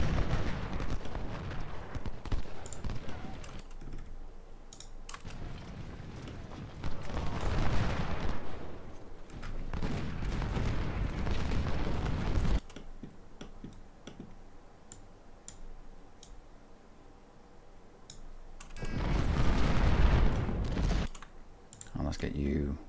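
Musket volleys from Union and Confederate infantry in a Civil War strategy game battle at South Mountain: dense crackling bursts of rapid clicks that swell loudly for several seconds, ease off, then flare up again near the end.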